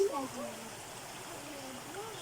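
Spring water from a clean spring at Macolag Resort trickles slowly into a container, making a steady, soft watery hiss that runs the whole time with faint background murmur.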